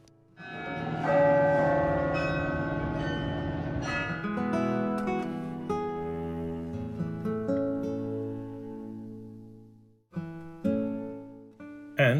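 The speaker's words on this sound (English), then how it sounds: "It also has an elaborate bell playing mechanism." Church bells with a bell-playing mechanism ring out from a tower in Ghent, their rich overlapping tones sustaining and fading, then a few fresh strikes sound near the end.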